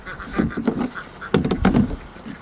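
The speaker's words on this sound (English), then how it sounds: "I gotta let the rest of these ducks out." Farmyard ducks quacking near a pen, several loud close calls overlapping in irregular bursts, with honking tones mixed in.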